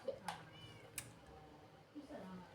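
A cat meows a few times in a video game, faint and brief, heard under quiet background sounds.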